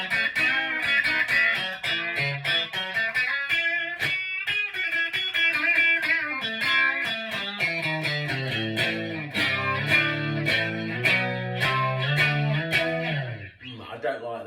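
Squier Bullet Strat electric guitar played through its original neck and middle pickups in vintage red, ringing out a bright continuous run of chords and picked notes at a full, steady level.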